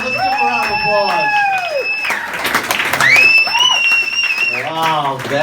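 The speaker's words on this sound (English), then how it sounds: "let's give him a round of applause" Comedy club audience claps and cheers for a comedian being introduced on a Valentine's Day show, the applause running under strongly pitched voices and shouts that rise and fall across the clip.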